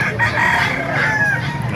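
Rooster crowing once, close and clear, at a chicken market in Calumpit, Bulacan, with faint crowd murmur beneath.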